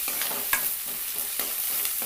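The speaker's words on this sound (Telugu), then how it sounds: "వేసి ఉల్లిపాయ ముక్కలు కొంచెం వేగనివ్వాలి." Onion pieces frying in a pan for an aloo egg masala curry, stirred as they cook: a steady close sizzle broken by several short scraping stir strokes, with no voices.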